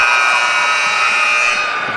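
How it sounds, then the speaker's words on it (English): A loud, sustained electronic buzzer sounds without a break to end the third quarter of a high school basketball game between Union City and JCM. "Jumper at the buzzer."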